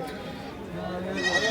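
Goats bleating amid a busy wholesale goat market in Kerala, where animals are tied in groups and held on vehicles, their cries rising and wavering close by over a steady crowd murmur and background talk.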